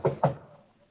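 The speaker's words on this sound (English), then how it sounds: "Better knock harder." Two sharp knocks on a bedroom door ring out close together in a radio drama, each a firm wooden rap, followed by a quiet room tone.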